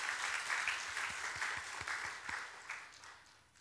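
Church congregation applauding together in thanks for deacons and supporters after a field turf replacement, a steady dense wash of clapping at moderate level that tapers off toward the end, with no one speaking.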